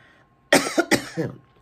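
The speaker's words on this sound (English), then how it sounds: "I'm so sorry for coughing." Two harsh coughs in quick succession, close and loud, with a soft hum in the background.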